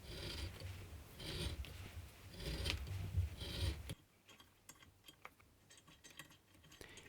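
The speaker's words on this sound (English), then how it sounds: "Now I just have to widen the two feeding holes and put some threads in it" Metal workpiece being drilled and threaded to widen two lubrication feed holes for grease or oil nipples on an Emco mini CNC lathe saddle: about four seconds of rough, close rasping, then quieter scattered scraping clicks.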